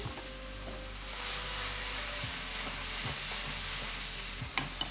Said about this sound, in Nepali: हामीले यसलाई अनियन पनि फ्राई गर्छौँ है।